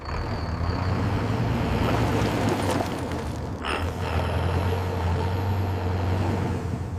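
Ashok Leyland army truck turning onto a village road and driving on, a loud, steady diesel engine rumble with a brief hiss partway through, close and without talk.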